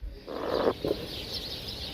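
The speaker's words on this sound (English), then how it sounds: "Hear them birds? They're having a party in those trees by my house." Birds chirp in trees by a house on a cold day, a brief cluster of faint, bright calls at mid distance over steady outdoor hiss, with no one talking.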